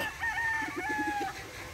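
Chickens on a farm, feeding, with a rooster crowing in long drawn-out calls and softer clucks from hens nearby, moderately loud with no talking.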